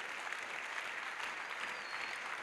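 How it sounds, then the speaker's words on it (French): Congregation claps at an evangelistic crusade, a dense, even burst of applause heard from a distance and fairly faint, continuous throughout. "Acclamation à Jésus. A clap for Jesus."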